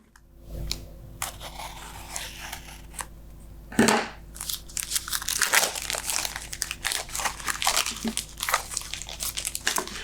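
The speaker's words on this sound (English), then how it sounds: "If you haven't opened your product already, let's do that together." Crinkly plastic wrapping on a card-making kit of note cards and envelopes is torn and handled close by, with repeated crackling rustles and crunches running through the whole stretch.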